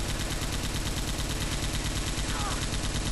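Dense, rapid gunfire rattles continuously in the zombie shooter Left 4 Dead 2, loud and close, with rhythmic automatic bursts and a voice briefly audible underneath.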